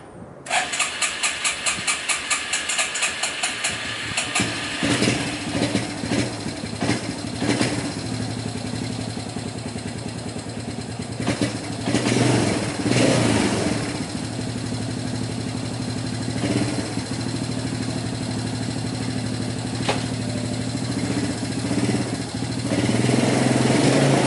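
A 1987 Suzuki LT 4WD Quadrunner ATV engine cranks and catches, then idles with a steady, smooth mid-pitched drone up close, swelling briefly with a few revs partway through, with no talking.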